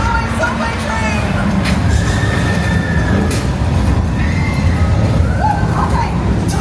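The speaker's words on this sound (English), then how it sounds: "What a runaway subway train!" Runaway subway train effect on a Universal Studios tour in Hollywood: a loud, close, steady rumble of rail noise with squealing wheel tones running throughout.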